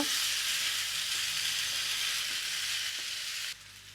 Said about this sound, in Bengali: মাছটা খুব ভালো করে নেড়ে নেড়ে ভাজতে হবে